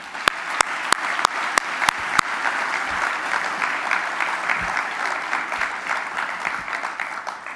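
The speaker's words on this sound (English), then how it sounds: "So let's have a round of applause for all 5 teams." A conference audience claps for five competing teams at a space research event, opening with a few sharp near claps before settling into a broad, sustained round of crowd applause that holds steady to the end.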